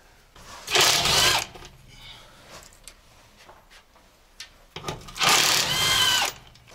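A power tool in a garage removes bolts on an Opel Frontera, sounding as two short, loud whirring bursts separated by quieter handling noises.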